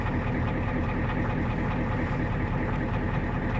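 A 1990 Ford diesel truck engine idles steadily with a deep, rough rumble and faint irregular knocking, constant and close throughout.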